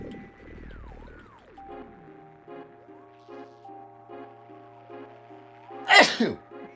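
A single sharp, close sneeze bursts out near the end over quiet background music with gliding electronic tones from Final Fantasy VII.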